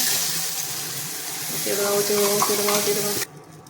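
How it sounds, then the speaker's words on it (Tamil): Ground coconut masala is poured into a simmering fish curry and stirred, giving a steady wet sizzle and liquid swirl with faint scraping, close and continuous before cutting off abruptly near the end. "இப்போ அரைச்சி வச்ச தேங்காய் மசாலா ஊற்றுங்க"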